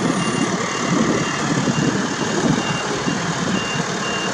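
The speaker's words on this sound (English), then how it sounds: "Truck pulling out here." Truck reversing beeps as the truck pulls out, with a steady repeating electronic beep over a loud, continuous engine and road rumble close by.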